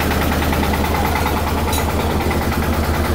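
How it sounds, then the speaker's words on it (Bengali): A Sansai 36 engine with micro gear drives a new Indian-model paddy threshing machine, giving a loud, steady idling drone with low rumble and vibration that holds evenly throughout, with no talk. "সানসাই 36 ইঞ্জিন মাইক্রো গিয়ার।"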